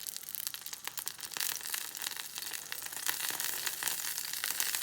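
Garlic frying in rendered bacon fat, a loud, bright crackling sizzle with dense popping that grows slightly stronger toward the end, close up and without talk.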